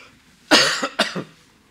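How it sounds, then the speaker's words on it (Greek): A single person coughs twice in quick succession, close and fairly loud, during a Greek panel talk, with quiet room tone before and after. "Βλέπετε ότι όταν ήρθε η σειρά μου άρχισα να βήχω."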